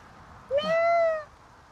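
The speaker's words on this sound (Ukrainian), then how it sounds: "Це якийсь ще модний породістий кіт." A cat gives one clear, drawn-out meow close by, rising then settling, set against a quiet outdoor background during a fishing outing.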